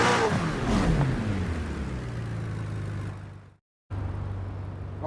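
A McLaren 600LT in Forza Horizon 4 drives with its engine droning at a steady, fairly loud pitch. The sound cuts to silence briefly, then resumes just as steadily.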